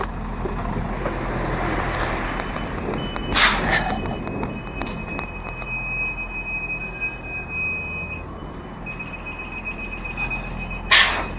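Two sharp hisses of truck air brakes burst out over a steady engine rumble, the second one louder, with faint tonal squeals in between.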